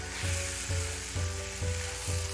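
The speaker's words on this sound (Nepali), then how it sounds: "अब चलाउँदै मिक्स गर्दै यसलाई 2-4 मिनट जति यसरी पकाउनु पर्छ भुट्दै।" Steady sizzling of a noodle and beaten rice mixture frying in a pan, with periodic low scraping thumps from stirring roughly every half second.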